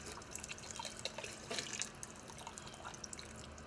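Swanson fat-free vegetable broth is poured into a soup pot, a quiet, continuous trickle and splash of liquid with a slightly stronger gush partway through.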